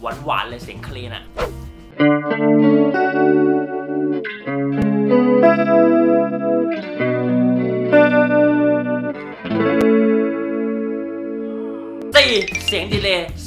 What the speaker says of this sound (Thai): 3เสียงคอรัสหวานๆเลยเสียงคลีนอ่ะ